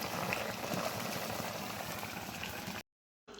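A pot of red spinach and tengra fish boils with a dense, steady bubbling hiss that cuts off briefly to silence before returning.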